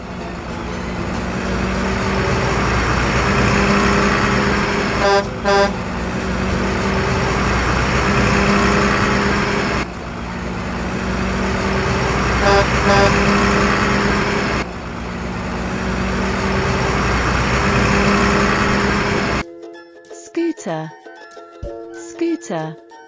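A truck sits idling with a loud, steady rumble, and sharp horn blasts sound in a couple of quick bursts. Near the end the engine cuts out, leaving sparse, thin electronic tones.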